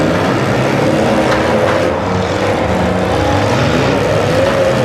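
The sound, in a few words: six-cylinder demolition derby cars running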